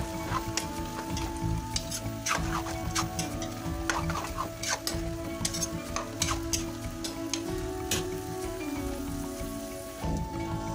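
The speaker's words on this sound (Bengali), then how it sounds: "এখন এগুলোকে আমরা নেড়ে নেব" Vegetables with slit whole green chillies being stirred in a kadai, a steady sizzling scrape with repeated clanks of the spoon against the metal pan, loud and close, with no talking.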